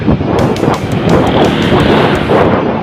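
Strong wind buffeting a microphone outdoors on a trail ride in Pangasinan, Philippines, a loud rumbling roar that gusts unevenly throughout.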